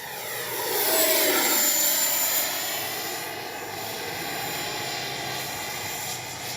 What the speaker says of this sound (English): Man, what a great flying plane.